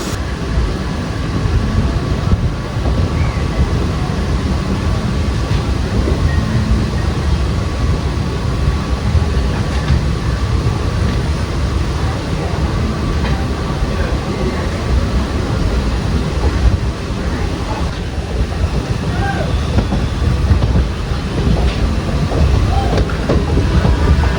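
A DEMU local train runs steadily with a deep continuous rumble and rhythmic clickety-clack of wheels over rails, loud and close throughout.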